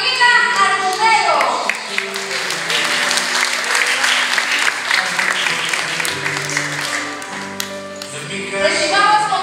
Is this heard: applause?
yes